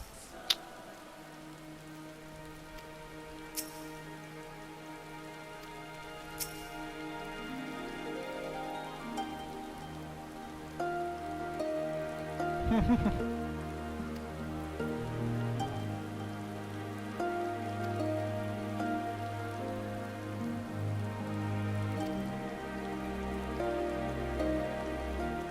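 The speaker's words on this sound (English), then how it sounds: "And it's raining again." Steady rain patters throughout a scene in the video game Final Fantasy XIV, a continuous wash beneath layered game music with a few brief chimes.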